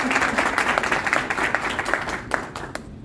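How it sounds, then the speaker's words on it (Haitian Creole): Brief applause from a small audience during a French-language news presentation, a dense patter of claps that thins toward the end, close and without talk. "Un petit applaudissement"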